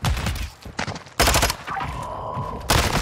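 Rapid bursts of automatic gunfire from the Modern Warfare 2 video game in ranked online play, loud clustered volleys separated by short gaps and a high electronic tone in between.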